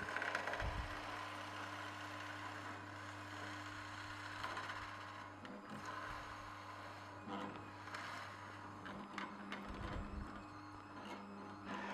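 An Omega Twin Gear TWN32S twin-gear juicer grinds carrots with a steady low mechanical hum and rumble, broken by a few heavier thumps and crunches as the pieces are pressed through.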